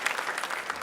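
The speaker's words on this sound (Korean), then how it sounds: "박수하겠습니다." Church congregation applauding after a closing prayer at a Sunday service, a short, steady burst of clapping from many hands at moderate volume.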